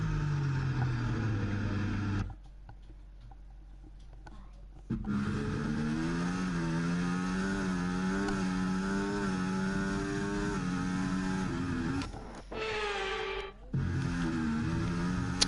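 Formula 1 car engines in the F1 24 racing game during a Canada race, a loud sustained high-pitched whine rising and falling through gear changes, cutting out briefly twice before resuming.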